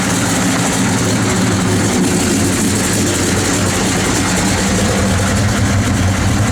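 A 1971 Chevrolet Chevelle with a 454 V8 idling loudly and close, a steady deep rumble holding an even note throughout with no talk over it.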